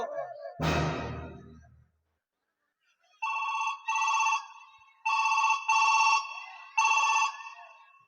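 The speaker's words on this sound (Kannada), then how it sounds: "ಈಗಲೇ ಇನ್ಸ್ಪೆಕ್ಟರ್ ವಿಜಯ್ಗೆ ಫೋನ್ ಮಾಡಲೇಬೇಕು." Outgoing phone call ringback: a short rustle, then a loud electronic ringing tone repeating in steady paired bursts with even gaps, clear and alone.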